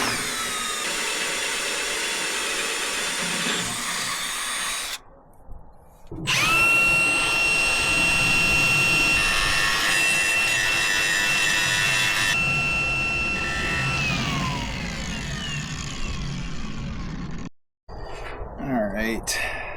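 A power drill bores a ground hole on a 1969 Chevy C20 pickup, whining in long close bursts with a short pause and a sharp stop near the end, followed by faint handling noise.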